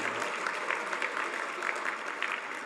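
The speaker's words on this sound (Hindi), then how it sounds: "कोई ताली तो बजाओ कम से कम" Sustained audience applause at the inauguration of the Sadri Sammelan 2022 gathering, a dense, steady clapping from a large crowd filling the whole stretch with no pause.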